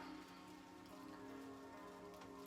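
Steady light rain falling outdoors, a soft continuous patter with faint ticking drops, fairly quiet and alone, with a sudden louder burst at the very end.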